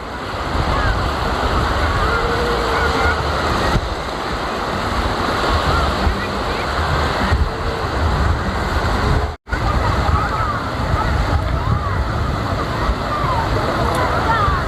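Surf and wind at Seranit beach in Banyuwangi in the late afternoon, a steady, close roar of breaking waves with gusty microphone wind and one brief dropout.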